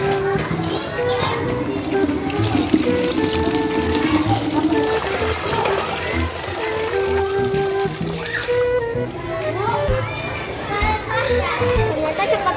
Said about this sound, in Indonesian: Ya sudah Adam, ayo kita mengisi airnya dengan keran penuh